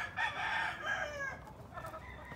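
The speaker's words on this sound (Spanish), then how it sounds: "aquí tenemos un gallo" A rooster crows nearby among hens, one drawn-out cock-a-doodle-doo that sounds fairly loud and clear, with a weaker crow trailing after it and no speech.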